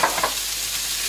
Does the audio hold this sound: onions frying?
yes